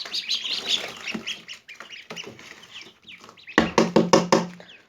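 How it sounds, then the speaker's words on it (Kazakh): Hens and young chicks clucking and peeping close by, with rapid sharp pecking knocks growing louder toward the end; no talk. "Мынау міне менің тауықтарым, яғни онда балапандарым бұйырса алла қаласа өседі бұларда."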